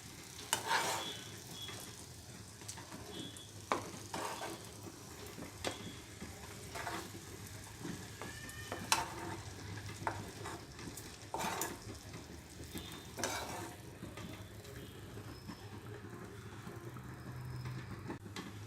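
Eggs frying in oil for a pepper egg fry give a steady close sizzle with scattered crackles and sharper pops, plus an occasional clink of a utensil, and no one speaks.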